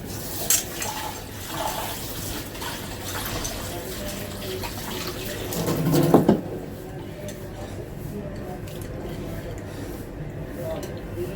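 Tap water runs steadily into a cooking pot holding moong dal in a home kitchen, a continuous splashing fill with background noise that eases off partway through.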